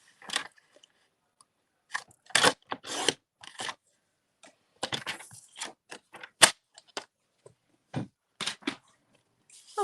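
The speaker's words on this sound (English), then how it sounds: "my trimmer and we'll cut this 4 inches by 5 1/4 for the inside of the card" Card stock cut on a paper trimmer, a string of short crisp slicing and scraping sounds in separate bursts, close up, with quiet pauses between them.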